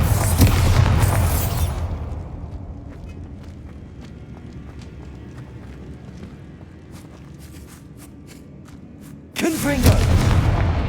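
Bombarda spell blasts in Hogwarts Legacy, loud booming explosions at the start and end with a quieter rumbling stretch and light clicks between them.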